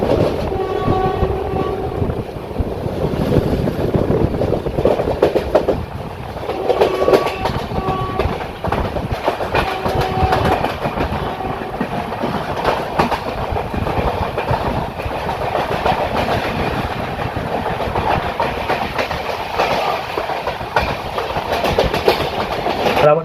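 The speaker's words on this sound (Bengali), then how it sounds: "আর আমাদের ট্রেন এখন দক্ষিণেশ্বর ক্রস করছে" A Kolkata–Jammu Tawi Express passenger train runs on the rails near Dakshineswar, heard from on board as a continuous rumble with rhythmic clickety-clack and horn blasts rising over it throughout.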